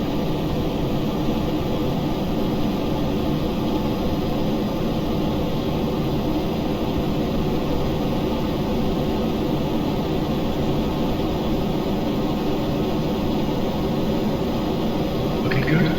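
Steady, droning engine roar of an aircraft rolling along a runway in a flight game, continuous and loud with no change in pitch.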